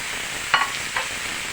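Minced meat for stuffed walnut kibbeh sizzles and hisses in a hot steel pot, with a couple of scraping stirs punctuating the steady frying noise.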